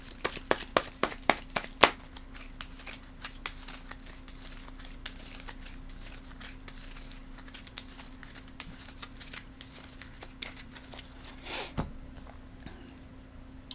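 A deck of game cards for the Marvel Champions card game is shuffled at a tabletop, giving close, irregular papery riffles and taps over a steady low hum, with no talk.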